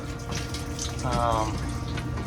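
Water from a hose runs steadily into the drain of a double-door freezer, a continuous splashing gurgle that swells slightly partway through, close by and alone.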